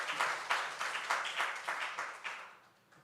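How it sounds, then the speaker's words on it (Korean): A church congregation claps in a short burst of applause during a Friday praise worship service, with rhythmic clapping that fades out toward the end. "우리 하나님께 영광의 박수 올려드립니다."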